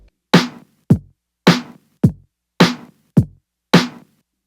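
Seven punchy electronic drum hits alternating kick and snare at a steady mid-tempo, a separate set of samples from a layered kick-and-snare pattern, dry and upfront with no voices.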